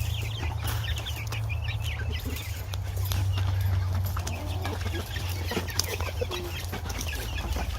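Hens cluck in their coop, the calls scattered and overlapping above a steady low hum, close by and fairly loud throughout.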